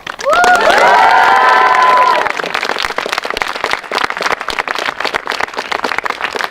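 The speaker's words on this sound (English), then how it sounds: "Can we have one big cheer for Mr. Ogden?" A loud crowd of young voices cheers with rising shouts for about two seconds at a school time capsule burial, then scattered clapping and chatter carry on.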